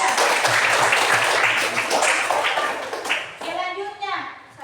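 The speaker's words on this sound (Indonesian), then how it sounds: "tepuk tangan dulu untuk dia" Classroom applause for a student: a dense burst of many hands clapping that thins out after a few seconds, with children's voices chattering underneath toward the end.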